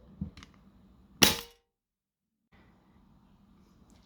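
A single sharp, loud crack of a Umarex airsoft pistol firing, close and short, preceded by faint handling clicks and followed by near silence and quiet rustling.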